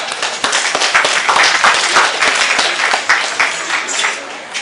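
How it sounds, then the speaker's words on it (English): Sustained crowd applause at a community festival gathering, honoring executive committee members; dense, steady clapping from many hands, fairly close and loud, with faint voices mixed underneath. "Let's give him a round of applause"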